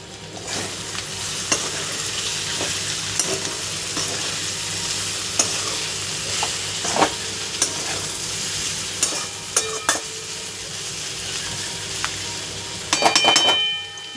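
Bitter gourd (karela) sizzles steadily as it fries in a pan, with repeated spatula stirs and scrapes plus a few light clinks, and a louder burst of stirring near the end.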